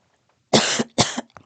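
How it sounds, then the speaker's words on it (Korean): A man coughs twice in quick succession near the microphone, two sharp harsh bursts followed by a faint small throat sound, in an otherwise quiet room. "기침이 나와서"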